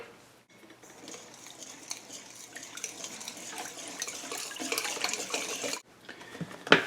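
Half a cup of honey added to challah dough in a mixing bowl, a soft continuous trickling and clinking of utensils that builds gradually, cuts off briefly near the end, then returns with a sharp knock.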